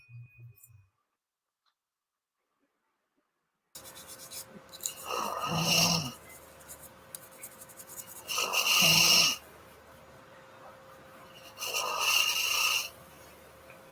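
A person snores close up in three long, loud, rasping breaths spaced a few seconds apart, with quieter breathing between them, after a stretch of near silence.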